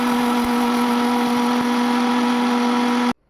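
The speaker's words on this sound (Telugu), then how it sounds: "మిక్సీ కొట్టుకోవడం." A kitchen mixer grinder blends orange peel and rose petals in a dry jar, a loud steady motor whine running continuously for about three seconds before cutting off abruptly.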